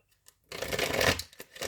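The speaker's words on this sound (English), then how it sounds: "I'm going to shuffle." Tarot cards shuffled by hand, a dense papery riffle that starts after a brief near-silence and runs close and fairly loud for about a second, then breaks into a few shorter flicks.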